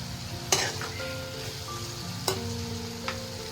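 Tomatoes with salt sizzle softly in a pan for a fish curry, a low steady frying hiss broken by a few sharp clinks of a spoon stirring, under faint background music.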